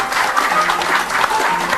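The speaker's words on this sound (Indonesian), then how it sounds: "Tepuk tangan dulu dong untuk para jurang panelis yang sudah hadir di sini" A studio audience claps for the panelists of a Metro TV talk show, dense, even applause that sustains loudly from start to finish.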